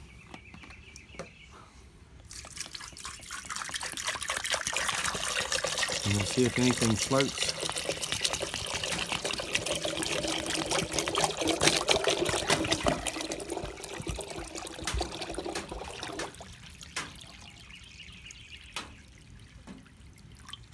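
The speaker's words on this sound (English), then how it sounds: "I'm going to add my water." Water pours steadily into a crock pot full of eggs, a loud continuous splashing stream lasting about fifteen seconds that tapers into trickles, with a person talking before and after.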